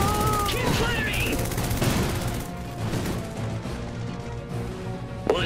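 Dense, loud bursts of gunfire from a battle in the video game Iron Harvest, with overlapping shots and impacts, a sharp crack near the end, and game voices and effects underneath.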